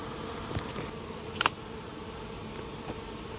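Honey bees hum in a steady, soft drone around a nuc being installed in summer, with a few brief clicks and knocks, and no talk.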